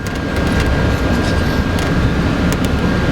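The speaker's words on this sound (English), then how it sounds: "So there's the 3 jet fans here at the top, and you can hear them." A steady, loud roar of rushing air from three jet ventilation fans in Alaska's Anton Anderson Memorial Tunnel in Whittier, a continuous broadband drone with a faint high whine and no pauses.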